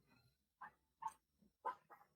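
Dogs bark in the background in a short series of about four sharp barks spread over two seconds, fairly faint and distant, with no speech over them.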